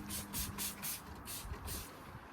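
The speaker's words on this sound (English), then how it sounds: "Spray it on quite heavily." Several quick spray bursts hiss in a steady rhythm, close and fairly quiet, as cleaner is sprayed onto the bonnet paint of a 1999 VS V8 ute, followed by a short pause.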